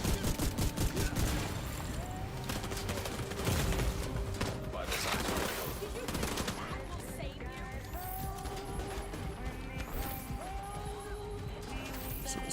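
Shotgun fire in The Division 2 mixed into a dense game battle: broadband gunshot bursts, heaviest early on, over constant combat noise with a voice talking throughout.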